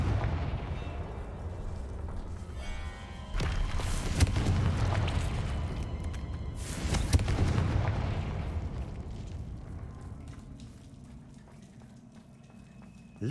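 Explosive Confringo spell blasts in Hogwarts Legacy, a heavy booming burst around the fourth second followed by another loud crackling blast near the seventh, with rumbling debris and game ambience fading out afterward.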